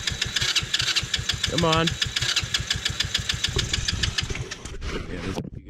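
A TaoTao 110cc engine with a blown top end cranks with rapid rhythmic chugging, catches and runs rough and close, while a voice briefly mutters over it.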